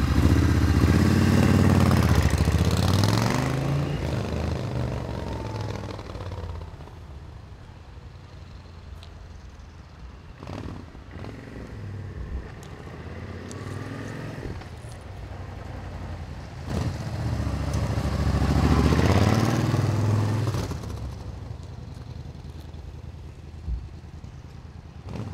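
A 1994 Suzuki VS1400GLPR Intruder cruiser motorcycle rides past on a street, its engine swelling loud as it nears, fading into a distant low rumble, then building again as it passes a second time.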